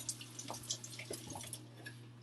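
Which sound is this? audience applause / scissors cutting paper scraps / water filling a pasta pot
water filling a pasta pot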